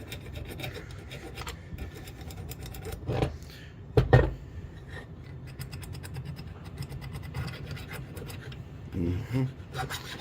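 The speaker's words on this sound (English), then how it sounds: "We got to get all of the flash off. So we'll just take some jeweler's files." Jeweler's files rasping flash off a cast Intermountain F7B model train frame, a continuous gritty scraping with a few louder strokes near the middle and end, close up with no talk.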